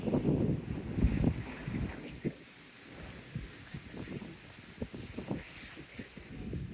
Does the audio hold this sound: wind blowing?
yes